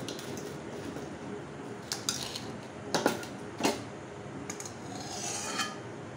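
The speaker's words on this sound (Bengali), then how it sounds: "আলু কটা একটু মেখে নিচ্ছি।" Cut potatoes are mixed by hand in a bowl with quiet rubbing and squishing and a few soft clinks against the bowl. The sound is faint, close and without speech.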